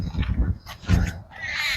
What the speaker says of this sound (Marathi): आणि नुसता पक्ष्यांचा आवाज येते.